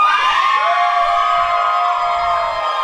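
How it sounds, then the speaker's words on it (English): A wrestling crowd at an indie pro wrestling show in St. Mary's cheers loudly for hometown wrestler Lance Alonte, a steady, dense roar of voices with high shouts and whistling sustained throughout, with no talk over it. "getting a big response from the crowd here"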